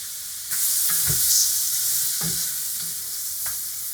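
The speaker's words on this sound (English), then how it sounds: "You look at this beautiful browning we've got going on here" Lamb pieces browning in a stew pot sizzle with a steady hiss while a utensil stirs and scrapes them in a few distinct knocks.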